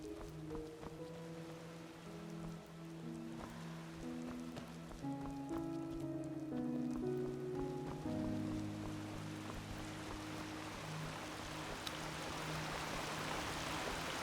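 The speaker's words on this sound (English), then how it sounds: "It is actually still raining." Steady rain falls in the video game Enderal, a soft continuous hiss that carries under melodic background music and swells louder toward the end.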